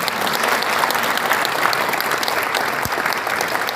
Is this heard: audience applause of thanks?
yes